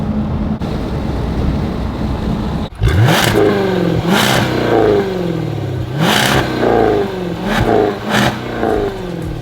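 A supercar engine revs repeatedly in sharp, loud bursts, each surge rising and falling, with wind buffeting the microphone throughout.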